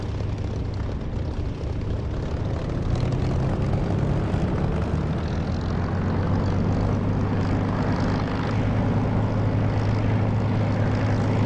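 A Spitfire's propeller engine rumbles steadily at close range while taxiing in the DCS flight simulator, a loud continuous drone with a low throb that swells slightly after the first few seconds.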